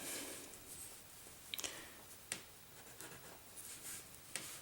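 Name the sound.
writing out a chemistry reaction product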